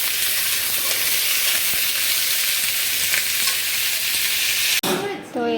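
Pointed gourd and potato fry in a pan, giving a loud, steady sizzle throughout, with a brief interruption and a different tonal sound near the end.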